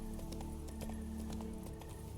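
Rhythmic clip-clop of horse hooves in The Witcher 3 at a steady walking pace, soft and even, over a low constant background hum.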